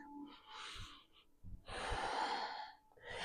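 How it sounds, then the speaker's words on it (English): Deep yoga breathing during a beginners' Kundalini session, a long inhale and exhale drawn audibly through the nose and mouth, close and soft, with a brief pause between breaths. "Inhaling forward, exhaling back."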